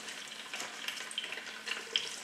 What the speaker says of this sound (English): We now will take those artichokes and put them right in the oil.